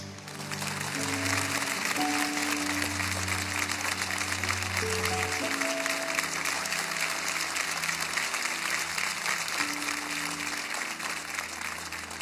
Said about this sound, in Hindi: एक बार जोरदार तालियों से स्वागत करते हैं शर्मिला जी का